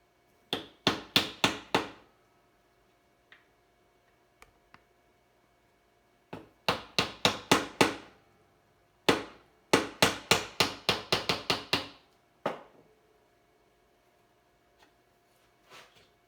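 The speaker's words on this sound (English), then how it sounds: "So first one's going to be with a mallet." A mallet strikes a chisel cutting a woodworking bridle joint, sharp wooden knocks in several rapid bursts of blows separated by pauses, loud and close with no talking.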